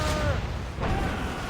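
Ship cannons boom during a naval battle in Assassin's Creed Rogue, a dense, loud low-end rumble with two heavy bursts around the start and near the middle, over continuous battle noise.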